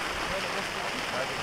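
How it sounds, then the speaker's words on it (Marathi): Steady rain falls over an open cricket ground during a final match, a continuous even hiss of drops with no distinct voices. "मैदानावर थोडस परत एकदा असहर्षाचो पाऊस तुमका दिसतलो"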